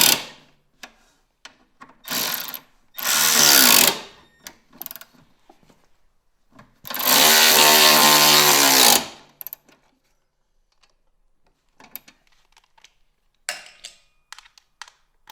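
Power tool driving T30 Torx bolts into a wrap-around bumper on a 2023 Ski-Doo Expedition SE 900 ACE snowmobile, two loud sustained whirring bursts with shorter clicks and taps between, no talking.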